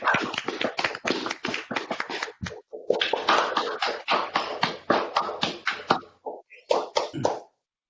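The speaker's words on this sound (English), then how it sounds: "give them a round of applause" A small group claps for award winners at a spring 2020 awards day: crisp, closely spaced hand claps in a thin, narrow-band recording, with a brief pause midway before the clapping resumes and then stops abruptly.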